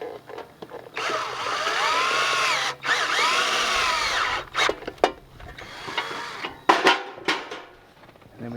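A power drill drives screws into an outside gutter miter: one long whining burst that rises and falls in pitch, then several short, close, loud spurts of the motor.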